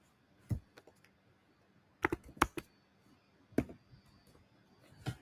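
Sparse, quiet taps on a phone screen come in small irregular clusters with pauses between them in an otherwise still room.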